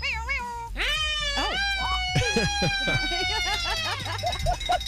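A voice imitates a wailing siren, sliding pitch up and down in long rising and falling sweeps, loud and close, with a shorter voiced yelp near the start.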